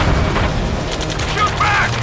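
Gunfire fills a battle in the Ace Combat 7 video game, a dense rumbling barrage with booming bursts, and shouted radio chatter sits on top.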